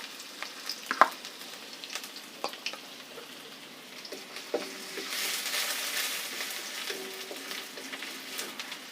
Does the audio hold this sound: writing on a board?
no